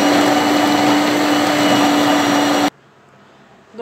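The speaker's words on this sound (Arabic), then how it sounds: "جي ميكسي الفلفل نتاعي" An electric blender crushing chili peppers runs with a loud, steady motor whine and a constant tone, then switches off abruptly, leaving near silence.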